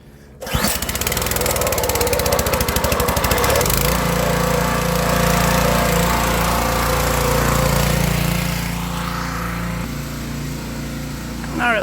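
A Ryobi gas pressure washer engine is pull-started: one sharp rope pull, a brief sputter, then the small engine catches and runs loud and close with a steady rattling drone. A voice can be heard over it.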